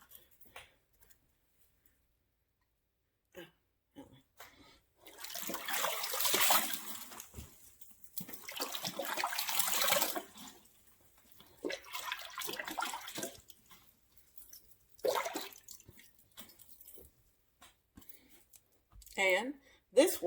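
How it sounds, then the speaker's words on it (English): Water from washed collard greens splashes and drains in a sink in bursts, with louder pouring stretches near the middle and shorter splashes later, under occasional quiet talk. "The water will drain, but the greens will not go down"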